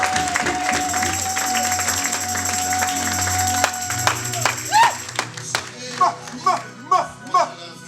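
A church congregation at a Sunday service applauds under a speaking voice and background music, the clapping becoming rhythmic, loud bursts toward the end.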